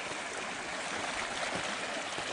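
A deep, narrow creek flows steadily, producing a constant soft rushing and trickling of water with no breaks, moderately close and heard on its own.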